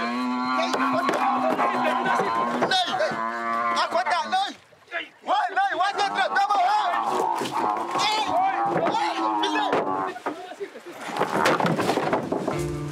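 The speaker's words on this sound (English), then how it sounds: "The cow would have undoubtedly appreciated a ramp, but a ride in the fresh air is bound to cheer it up." A cow moos repeatedly in loud, drawn-out calls close by while riding in a vehicle, with a brief pause midway and some clattering at the end.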